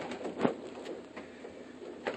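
Young pigeons, Husky Van Reel crosses, coo softly in a loft, with a few low murmuring calls and one slightly louder coo near the start amid a soft background hiss.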